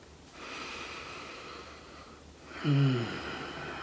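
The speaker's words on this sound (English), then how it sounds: "And then just breathe normal." Relaxed breathing after rounds of box breathing: a soft, drawn-out breath is followed by a short nasal snort-like exhale, close to the microphone and otherwise quiet.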